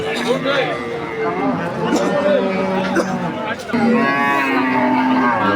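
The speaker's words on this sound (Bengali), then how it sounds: "এই একটা বড় মাপের গরু দেখতেছেন" Cattle moo loudly and repeatedly nearby amid crowd chatter and voices talking at a busy outdoor livestock market, including Friesian cows and calves.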